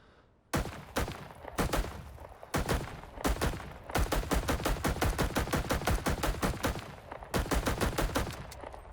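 Semi-automatic rifle fire in Rising Storm 2 with a 30-round magazine: sharp, loud single shots, first spaced apart, then a fast steady string of rapid shots, with short pauses between groups.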